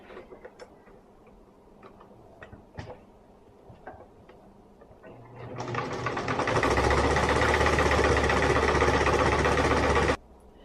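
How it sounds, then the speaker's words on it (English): A sewing machine stitches around a small fabric hippo ear: a few light clicks and handling noises first, then a steady loud close mechanical whir that runs for about five seconds and stops abruptly. "I do back stitch at each of the ends just because it is a tight space"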